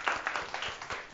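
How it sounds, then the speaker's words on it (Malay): Pupils in a Malaysian primary science classroom clap in a short burst of applause, several hands patting together rhythmically at moderate loudness for about a second. "bagi tepukan."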